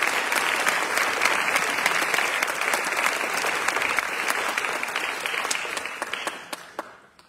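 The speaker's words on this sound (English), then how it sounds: "Give them a round of applause." An audience applauds a university jazz band at an academic lecture event, steady dense clapping that holds for most of the stretch before thinning and fading out at the end.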